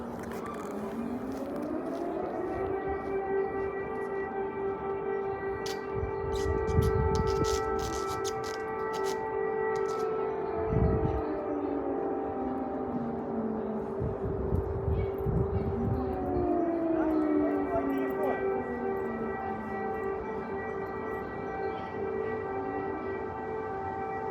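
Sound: air raid siren sounding

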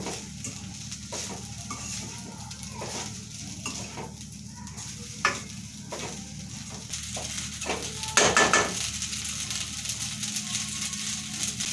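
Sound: stirring pasta with salt and chili in pan

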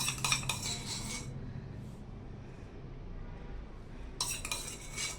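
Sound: spoon stirring jaggery and ghee mixture in pan

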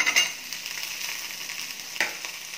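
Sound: tomatoes frying with onions in a pan

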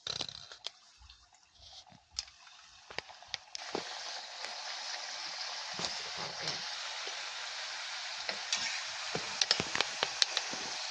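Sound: wheat-flour kapnya frying in hot oil

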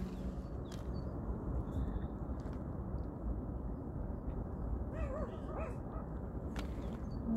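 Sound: dog barking

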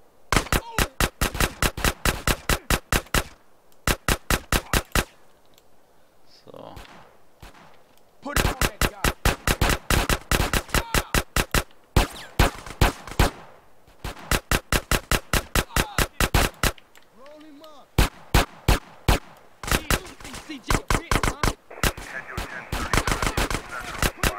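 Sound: gunfire in the video game GTA San Andreas

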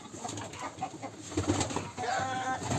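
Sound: pigeons, black-winged (kara kanat) breed

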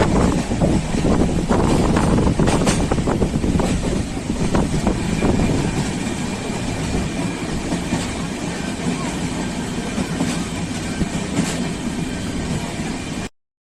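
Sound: train running on rails

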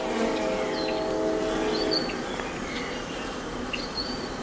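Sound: honey bees buzzing on the hive frame during a waggle dance

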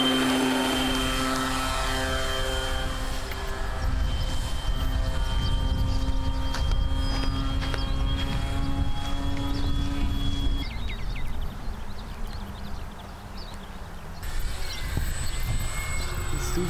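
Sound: full-size aircraft at an airfield

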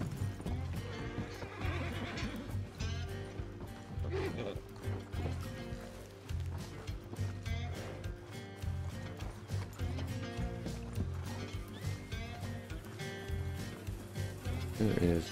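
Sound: horses neighing in a video game

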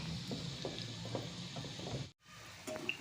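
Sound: stirring bhaji fritters frying in hot oil

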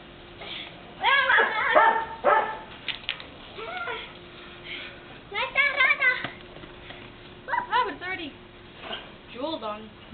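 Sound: dog barking while playing

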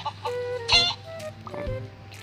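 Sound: chickens clucking in Mini World video game

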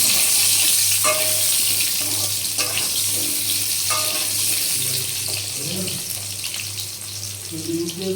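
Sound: diced potatoes frying in hot oil

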